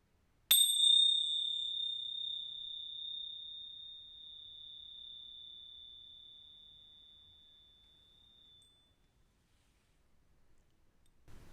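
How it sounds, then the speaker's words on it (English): A single meditation bell struck once, its clear high ring sustaining and slowly fading for about eight seconds, alone in a quiet room. "I got my bell today."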